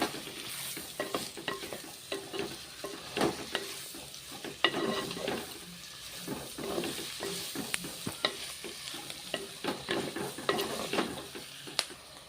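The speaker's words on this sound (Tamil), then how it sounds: "நல்லா பாவக்காய் நல்லா வதங்கினங்க" Bitter gourd sautéing in a pan for a tamarind thokku, with a steady sizzle and repeated scraping stirs of a spoon across the pan, close and continuous with no talking.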